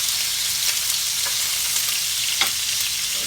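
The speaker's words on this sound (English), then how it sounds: "Put the leg in there. That's it. We're going to let it sear 15 minutes." Chicken legs coated in mustard sear in a hot pan with a steady, close, broadband sizzle, with a few faint scrapes or pops along the way and no talking.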